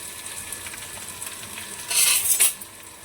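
Spices, crushed ginger-garlic, curry leaves and green chili stir-fried in a hot pan for chicken kheema, with a soft sizzle under light utensil scraping that swells into a louder burst of spattering near the end.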